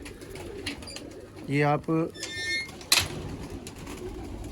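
Teddy pigeons give a couple of short, close cooing calls in the middle, with someone speaking briefly around them over a quiet background.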